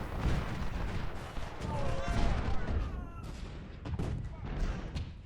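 Massed musket and artillery fire from Civil War infantry units in the strategy game Ultimate General: Civil War, with scattered crackling volleys and dull booms at moderate distance, heard under intermittent talking.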